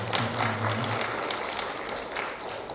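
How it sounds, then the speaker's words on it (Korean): Applause from a church congregation at a Sunday worship service, a faint, scattered patter of hands under a low hum, with a brief voice early on. "박수를 한번"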